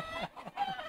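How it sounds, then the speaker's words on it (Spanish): A pinto rooster at a Peruvian gamecock breeding farm clucking close by in a few quick, throaty bursts, no speech. "Este gallo pinto, este pollo"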